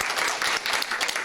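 Brief burst of audience applause for the participants of a 4-H public speaking contest, dense clapping from a crowd that holds steady for the whole short stretch.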